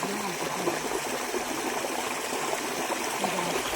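River water rushes in a steady, even wash of flow, continuous and fairly loud with no breaks.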